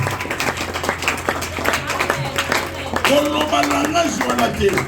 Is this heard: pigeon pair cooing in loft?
no